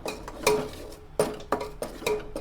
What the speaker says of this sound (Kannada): ಅದಕ್ಕೆ ಸ್ವಲ್ಪ ಮಸಾಲೆ ಖಾರವನ್ನು ಹಾಕ್ಕೊಂಡು ಮತ್ತು ಮಿಕ್ಸ್ ಮಾಡಿಕೊಂಡು